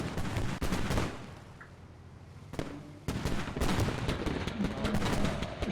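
Gunfire in the Squad military shooter game during a fight to clear a capture point with BTR armored vehicles nearby: dense, repeated sharp shots in loud bursts, broken by a quieter gap midway.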